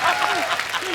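Studio audience applause on a TV comedy show, a dense steady wash of clapping hands filling a brief one-second span, with a host's voice carrying over it.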